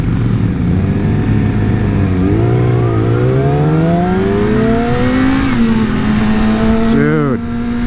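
A 2017 Yamaha R6 sport bike engine winds up through its revs, a loud harmonic whine rising in pitch with one dip and a shift near the end, steady wind noise underneath.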